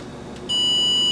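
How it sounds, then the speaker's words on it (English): A Brown Line Metalworks digital angle gauge, used on a torque-to-yield bolt, gives one sharp, sustained high electronic beep that starts abruptly and holds steadily in a quiet workshop. "Seems like it's almost 1 degree early it beeps on 60"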